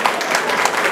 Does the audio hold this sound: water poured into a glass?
no